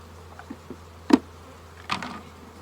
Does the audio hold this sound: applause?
no